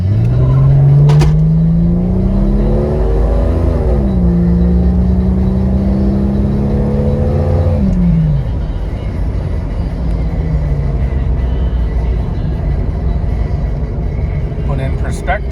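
A 1998 Jeep Cherokee with a 4.6L Stage 3 stroker engine from Clegg Engines and a stage 2 cam accelerates from 0 to 60, its engine droning loudly and rising in pitch through gear changes before settling into steady road noise.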